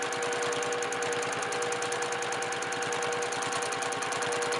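A sewing machine stitching free motion quilting on a baby quilt runs steadily and fast, its needle hammering out a dense, even rhythm that stays close and loud throughout with no pauses.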